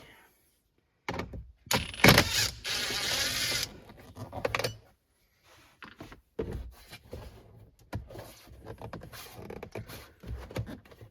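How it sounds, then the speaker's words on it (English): An impact driver spins out 7mm hex bolts on a 2015-2020 Ford F150 during a cabin air filter job, giving a few loud, uneven bursts of whirring and ratcheting between quieter clicks and handling noises. "So I got the impact here with me, so I'll make a little quicker work here"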